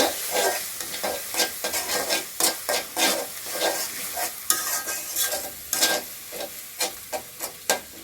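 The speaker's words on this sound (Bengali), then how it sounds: "এখন আমি এটা একটু লাড়াচাড়া করে দিব" A spoon stirs stone-ground spices and garlic paste as they fry in a pan. Rhythmic scraping strokes repeat roughly every half second over a constant close sizzle.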